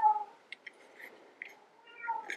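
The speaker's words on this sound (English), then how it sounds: "The kitty is making meowing noises." A small cat meows several times close by, short soft mews scattered with quiet gaps, the first and last a little louder.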